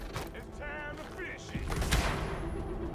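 Gunfire in The Division, a burst of shots from a nearby firefight mixed with game effects, with a voice talking over it throughout.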